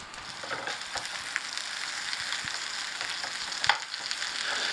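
Chorizo frying in a pan, a steady broadband sizzle with scattered pops and crackles, continuing evenly without talk.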